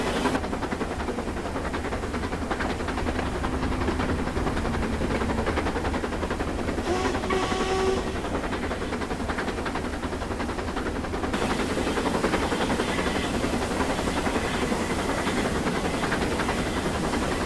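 A Duchess steam locomotive working hard and gaining speed over the Settle and Carlisle line, a dense continuous roar of exhaust beats and hiss with rumbling wheels, steady and loud throughout with no voices.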